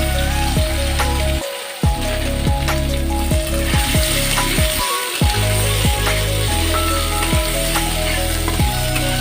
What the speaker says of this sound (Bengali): এবার এর মধ্যে এই যে আলুগুলো সেদ্ধ করে রেখেছি সেই আলুটা দিয়ে দিলাম।